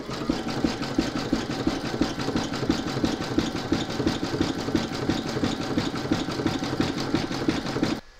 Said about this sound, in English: you're going to stitch round number 5, and that's going to zigzag the raw edge